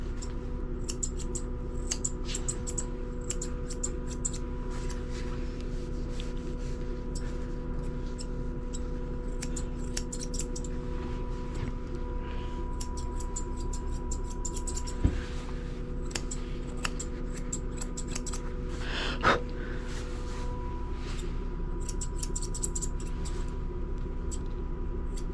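Grooming scissors trim the fur on an English Springer Spaniel's foot. Small, sharp snips sound close and quiet, coming in irregular bursts over a faint steady background. No one talks.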